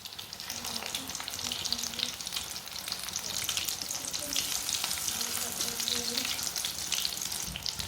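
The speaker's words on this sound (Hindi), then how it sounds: "ऐसे इसे उल्टते पुल्टते ब्राउन कर लेना दोनों साइडों से।" Aloo kabab, potato kebabs, frying in oil in a pan as they are turned and browned on both sides: a loud, steady sizzle that runs unbroken throughout, with no talking.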